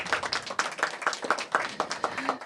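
Audience applause at a mayoral event launching an early learning quality improvement network: a steady run of brisk, moderately loud claps from a crowd, holding an even rhythm throughout.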